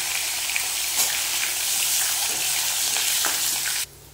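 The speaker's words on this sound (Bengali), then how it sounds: "বন্ধুরা এবার সজনে ডাঁটাগুলো ভেজে নেবে।" Drumstick pieces crackle and sizzle steadily in hot frying oil, close and continuous, with occasional light stirring knocks before the sound drops abruptly at the end.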